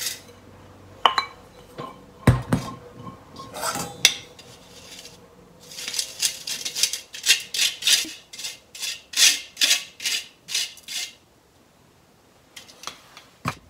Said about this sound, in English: Then, sift hojicha.